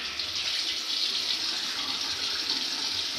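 Tap water runs in a steady, close stream onto a beard being wetted before applying high-hold beard putty, an even hissing flow with no speech.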